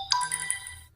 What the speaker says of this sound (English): notifications coming to my phone.